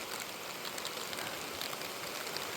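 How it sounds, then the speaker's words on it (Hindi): Heavy rain pours down in Arunachal Pradesh in a dense, continuous hiss, steady and loud from start to finish with no voices. "बारिश का आवाज़ सुनिए"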